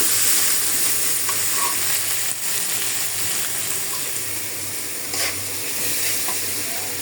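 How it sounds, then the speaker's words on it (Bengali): Prawns frying in a pot with cooked onion, salt and turmeric, giving a steady broadband sizzle with occasional stirring scrapes, close and continuous with no talking. "পেঁয়াজটা হয়ে গেছে, লবণ আর হলুদ দিয়ে আমি চিংড়ি মাছটা দিয়ে দিলাম।"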